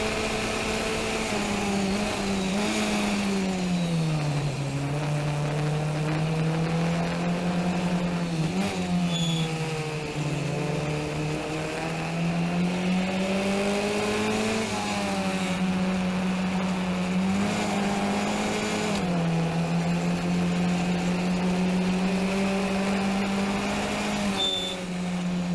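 Race car engine on a circuit, heard from inside the car: a steady, loud drone whose pitch rises and falls through corners and gear changes, running continuously without pause.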